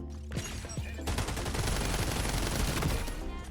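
Rapid automatic gunfire in the first-person shooter FragPunk, a dense sustained burst emptying much of a magazine, loud and close, preceded by a few sharper single shots and heavy low-end impacts.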